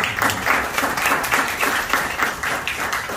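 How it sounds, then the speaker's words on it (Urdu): An audience at a book inauguration and award ceremony in London claps for two performers, a loud, continuous wash of many hands with slight pulsing swells from start to finish. "ان سب کے لیے بھی تالیاں دیں"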